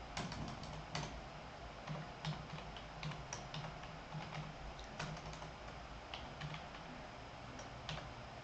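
Quick, uneven clicks of keys being typed on a computer keyboard, close and fairly quiet, in short bursts against a low background hum.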